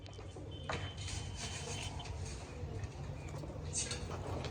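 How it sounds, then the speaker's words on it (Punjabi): Two large domestic pigeons coo softly in low, murmuring tones. The sound is faint against a steady background hum. "ਆਹ ਦੋਨੇ ਕਬੂਤਰ ਨੇ ਵੱਡੇ ਕਬੂਤਰ ਆ"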